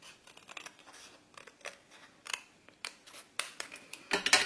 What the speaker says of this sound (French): Donc vous pouvez le couper directement au ciseau.